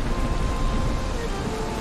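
Steady rain falls in the Valheim video game world during multiplayer play, a dense, even hiss of drops filling the short stretch with no break or voices.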